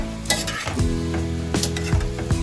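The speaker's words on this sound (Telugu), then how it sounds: "కొంచెం వేగాలండి ఇవి, కొంచెం కలర్ మారాలి." Amla gooseberries fry in oil for a pickle, giving a steady close sizzle broken by a few stirring scrapes and clinks of a spoon against the pan, with no talking.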